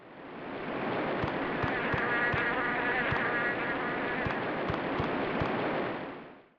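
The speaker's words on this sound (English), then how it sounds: "every bin having stereo-mapped flies buzzing around them" Stereo flies buzzing around rubbish bins in a Rugrats video game, a steady continuous insect drone holding level throughout, with faint low ticks or thuds repeating in the background and no voices.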